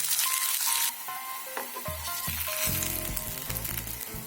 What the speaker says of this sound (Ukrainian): Ковбасу обжарюємо по хвилині півтори з кожного боку.